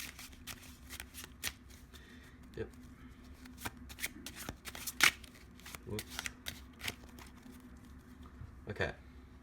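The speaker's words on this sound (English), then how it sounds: "And we're going to shuffle up the deck." Deck of playing cards shuffled and cut up close in a quiet room, with soft riffles and sharp snaps at irregular intervals and a few brief spoken words.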